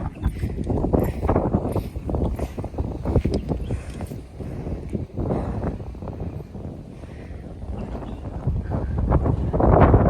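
Strong wind roaring over a hilltop at Mahabaleshwar in the monsoon, buffeting the microphone in continuous loud gusts with no clear voices.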